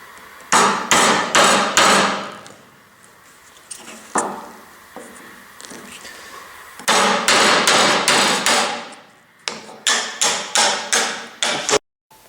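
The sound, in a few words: hammering a chisel into wood for a turkey call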